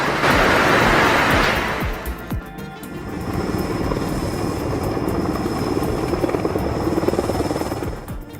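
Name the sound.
helicopter carrying power pole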